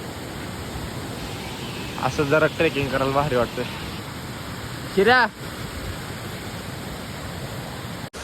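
A hidden waterfall in the Varasgaon area near Panshet Dam, running with a fairly heavy flow, gives a steady, broadband rush of water through the whole clip, with people talking over it in the middle.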